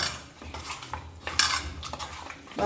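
A spoon scraping and clinking against a pot while stirring chicken curry with lemon juice, a few quick close knocks and scrapes over a couple of seconds.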